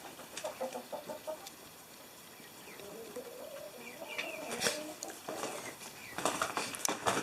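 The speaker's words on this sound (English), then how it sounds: "Here's the chickens." Chickens cluck and call intermittently at moderate distance, with a few wing flaps and rustles over a quiet background.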